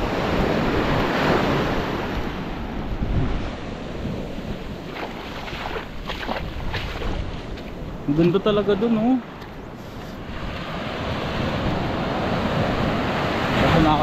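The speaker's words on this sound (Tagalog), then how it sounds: "Kasi nakakatakot yung alon, medyo malalaki." Big ocean waves surge and crash on a beach in a loud, continuous wash with heavy wind buffeting the microphone, and a person speaks briefly in Filipino over the surf.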